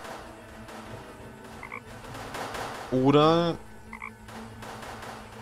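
Frog croaking in the Deponia video game, a single loud, rasping croak standing out over quiet game ambience, with faint background sounds and a brief spoken word nearby.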